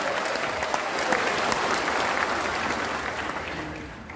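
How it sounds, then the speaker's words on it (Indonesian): A political party inauguration audience applauds at a ceremony for newly installed regional leaders, steady, fairly loud clapping that holds evenly and then eases slightly toward the end. "Tepuk tangan untuk semuanya."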